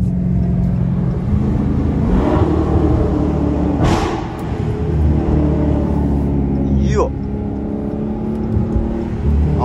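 A Dodge SRT 392 driving in track mode, its engine a close, continuous low rumble and whir that swells slightly, with a brief higher sweep partway through.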